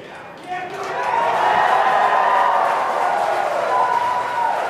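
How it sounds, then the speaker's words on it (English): Loud cheering from a room of people after a Dragon launch escape from a Falcon 9, a broad roar of voices that swells and holds steady. "you can hear some really loud cheering in the room"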